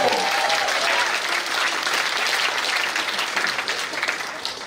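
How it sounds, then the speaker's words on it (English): A concert audience applauds loudly and steadily, a dense wash of clapping that holds for the whole stretch, with a brief tone and some crowd voices mixed in near the start. "Give yourselves a round of applause"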